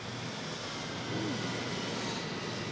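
An airplane engine drones steadily at a moderate distance, a continuous broad rumble with a faint tonal sweep partway through and no break.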